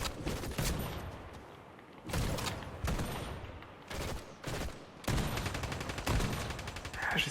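Battle royale video game gunfire: repeated loud volleys of rapid shots broken by short pauses, with the final bursts running longer and more continuous.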